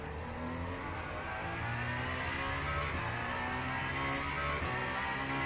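A race car engine in Le Mans Ultimate revs steadily, a smooth, continuous motor drone with stepped shifts in pitch, heard alone and fairly close throughout.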